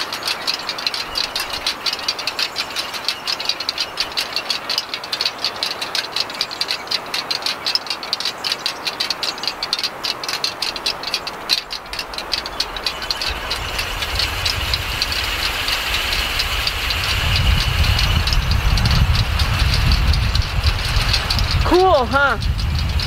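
Wind sculpture mechanism turning and rattling outdoors in steady wind, a continuous clattering mechanical rustle with wind noise building louder toward the end and a few brief squeaky creaks near the close.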